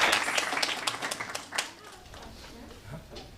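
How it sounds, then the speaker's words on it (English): An audience at a distinguished lecture claps in a short, lively burst that fades quickly after about a second and a half, leaving only faint room sound and scattered traces. "Give her a round of applause."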